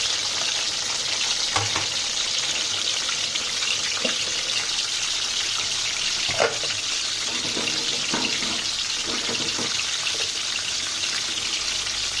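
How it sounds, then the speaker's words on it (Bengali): Eggs frying one by one in hot oil in a pan on a stove for an egg korma, with a steady loud sizzle and occasional crackles and pops close by. "আগে থেকে তেলটা গরম দিয়ে দিয়েছি এক এক করে ডিমগুলো আমি ছেড়ে দিচ্ছি"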